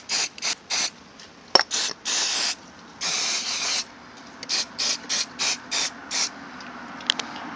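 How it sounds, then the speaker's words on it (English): Repeated short hissing bursts of a suede protector aerosol spray, close by, some brief and a few longer sustained blasts, with quiet pauses between. "spray it on. Make sure you get all of the suede if you can."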